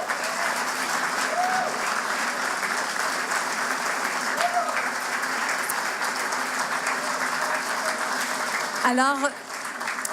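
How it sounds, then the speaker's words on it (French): Sustained applause from a gala audience at a centenary celebration, dense steady clapping filling the room for about ten seconds, with a brief spoken word from a host at the start and a short voice near the end. "je vous demande de les applaudir très chaleureusement"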